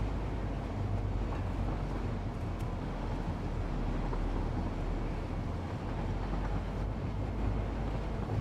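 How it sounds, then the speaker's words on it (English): A train in the video game Satisfactory, a loud steady rumbling roar of rolling wheels and engine that carries on without a break, with no one speaking. "Is the train too loud?"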